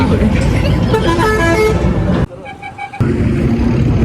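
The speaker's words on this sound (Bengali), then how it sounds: "এত হর্ন মারলে হয়? হর্ন মারে চলে যাবে অনেক রাস্তা।" Horns honk in a jammed road with ongoing roadworks, heard from an e-rickshaw: loud sustained horn tones repeat close by over steady traffic noise, with a voice talking through much of it.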